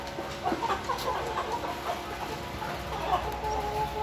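Black Hmong chickens, fighting-breed birds raised in a flock in Vietnam, cluck and murmur at moderate distance. The soft, scattered calls run through the whole stretch over a steady farmyard background.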